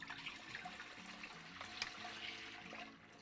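Two gallons of goat's milk pouring into a cheesemaking pot in a home kitchen, a steady liquid splash and trickle running throughout at moderate level, no voices.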